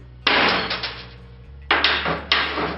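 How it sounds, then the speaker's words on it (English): A regular hammer chipping the contaminated tip off a tungsten welding electrode: three sharp metallic strikes, the first ringing on with small rattles, then two more close together, loud and near. "I'm going to take a regular hammer and I'm going to chip it."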